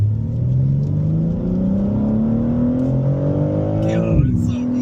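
A BMW M3 idles and revs at a driving course, its engine tone rising slowly in a steady drone before dipping near the end, with people talking over it.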